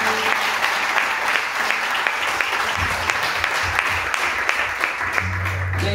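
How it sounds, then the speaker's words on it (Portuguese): Church congregation applauding during a Portuguese-language celebration service, steady dense clapping throughout with low tonal hum and faint musical tones underneath, near and fairly loud. "dê mais uma linda salva de palmas para Ele"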